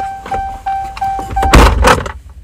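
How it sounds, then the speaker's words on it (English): A door slams shut indoors with a heavy, loud thunk that booms and rattles briefly before fading, following a few quieter knocks and clatters, with no voices. "He really slammed the door."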